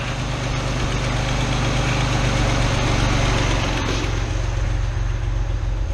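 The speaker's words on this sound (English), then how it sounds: "double check the idle on the car" A carbureted 1981-85 Ford Mustang engine idles around 800 RPM with a steady, close low rumble and even mechanical vibration throughout, no voices over it.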